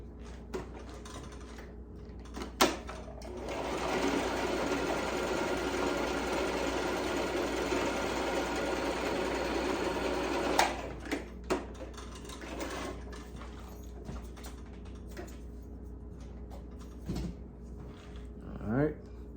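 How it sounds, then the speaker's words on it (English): A sewing machine runs a straight line of stitching on a necktie keeper, a steady close whir lasting about eight seconds, followed by scattered clicks, knocks and handling noises of fabric and machine. "I'm just gonna sew a straight line."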